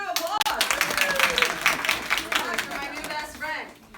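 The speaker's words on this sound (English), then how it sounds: "Give her a big round of applause." An audience applauds steadily at a language-teaching workshop presentation, dense clapping filling the room for several seconds before tapering off near the end.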